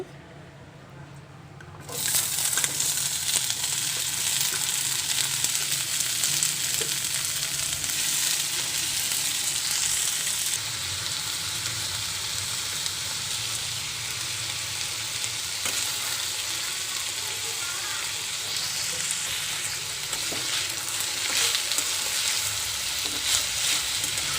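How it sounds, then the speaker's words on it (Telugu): Thinly sliced ivy gourd frying in oil for chutney starts abruptly after a quiet moment, then a loud continuous close sizzle with faint occasional stirring runs on steadily with no talk. "సన్నగా కట్ చేసుకుని దొండకాయలు కూడా ఆయిల్లో ఫ్రై చేయండి"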